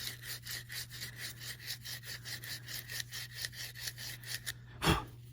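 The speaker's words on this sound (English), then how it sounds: "I'm gonna shape it in like a cone and just use that sandpaper to take off that rough edge" Sandpaper rolled into a cone rubs a rough wooden edge while making a marking gauge. Quick, steady back-and-forth scratchy strokes sound over a low hum, ending in a soft thump.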